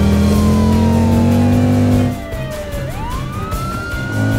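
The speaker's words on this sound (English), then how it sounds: "Police car has turned on the siren." Cartoon police car siren in a kids' animation, a loud continuous wail that sweeps down in pitch and then rises again over a revving engine.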